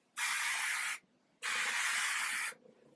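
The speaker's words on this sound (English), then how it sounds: "And I literally just spray that all over my hair." Two bursts of Tigi Catwalk heat protectant misted onto hair, each a soft, close hiss lasting about a second with a short pause between.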